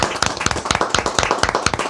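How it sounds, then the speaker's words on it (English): A small group claps for a cook at a gathering, quick irregular handclaps close by with a bright, sharp attack, lasting just under two seconds. "So round of applause."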